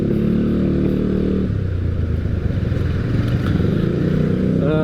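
Motorcycle ride on an Indonesian road toward Qimatu, a steady close engine drone with broadband wind rumble throughout, the engine note shifting partway through.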